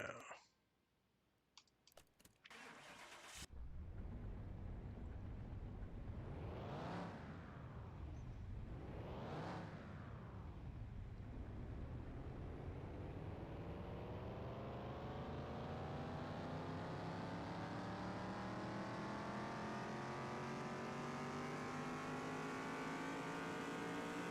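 A rebuilt car engine cranks with a few clicks, catches and fires, blips twice with sharp revs, then pulls steadily upward in pitch as it winds out at a loud, sustained roar.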